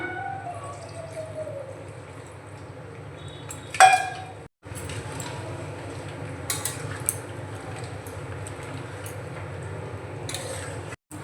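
Chicken being stirred in a pan on a home stove, with scraping and clinking of a utensil against the pan over a steady low sizzle, one louder clatter near the start and occasional light taps.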